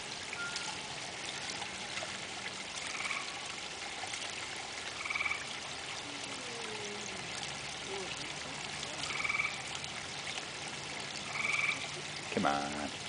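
Tree frogs croaking in Hagaman, repeated short calls rising every couple of seconds over a steady wash of night chorus and trickling background noise, moderately close.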